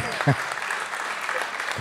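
Applause from a conference audience after a bishop of Nice is introduced, a brief dense patter of clapping under faint voices and a short loud burst near the start.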